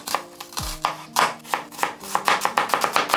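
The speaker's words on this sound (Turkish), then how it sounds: "Soğan ve sarımsakları yemeklik doğruyoruz." A knife chops onions and garlic on a cutting board in quick, close, rhythmic strokes, the knocks speeding into a rapid run toward the end.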